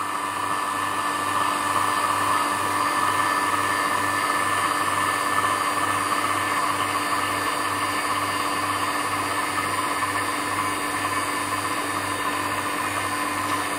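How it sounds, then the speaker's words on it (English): A vacuum pump runs steadily as it evacuates a tank holding candies, a loud continuous motor drone with a strong low hum and even pulsing, droning alone without pause from start to finish. "I think the pump is now sucking the moisture out of the candies"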